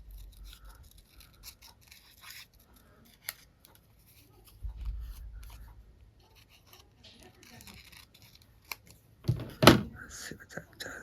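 A piece is trimmed off a craft project with scissors, producing scattered soft snips and small handling clicks and thumps, close and quiet, with a louder rustle of handling near the end.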